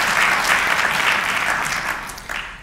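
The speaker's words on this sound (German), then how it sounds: "Sie können gerne klatschen." An audience at a German history discussion event claps in a dense, steady round of applause that fades slightly toward the end.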